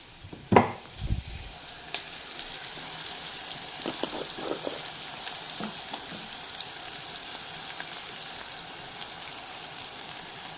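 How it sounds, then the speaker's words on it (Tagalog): Sliced onion sautéing in a pan, a loud clatter as it goes in, then a steady faint sizzle with occasional light scrapes and taps of a utensil, no voices. "Tapos magisa na tayo ng sibuyas."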